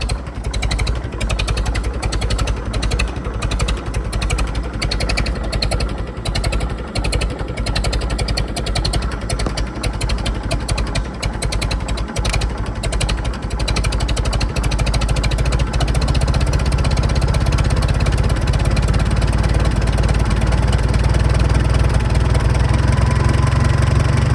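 Farmall tractor engine running during carburetor and timing adjustment, a loud, close, continuous idle with an uneven, knocking, slightly flooded beat that deepens and steadies toward the end.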